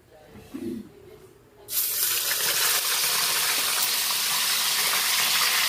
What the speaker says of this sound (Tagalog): Prito tayo ng daing na bangus.